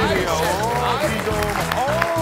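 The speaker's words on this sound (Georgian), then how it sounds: "აპლოდისმენტები." A studio audience on a TV comedy contest show applauds as a contestant is called up, giving a dense, steady wash of clapping throughout, with music or voices mixed in.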